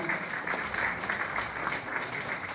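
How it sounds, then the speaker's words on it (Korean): Applause from an audience at a lecture for a speaker, a steady crisp clapping sustained across the whole stretch at moderate distance with no voices over it. "멋진 말씀 해주신 의원님께 다시 한번 큰 박수 부탁드립니다"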